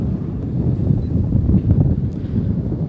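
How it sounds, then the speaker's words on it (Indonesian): Strong wind gusting at Rawa Pening lake, a continuous loud rumbling buffet that swells and dips, heavy on the microphone, with no voices. "Anginnya kenceng banget, guys."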